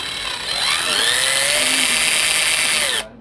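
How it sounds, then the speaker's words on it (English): Power drill with a 1/4 inch bit boring into a 1966 Harmony Bobkat guitar neck joint for dowels, a steady high whining drone that holds for about two and a half seconds and then cuts off abruptly. "I got a 1/4 inch drill bit on here. I'm going to drill in"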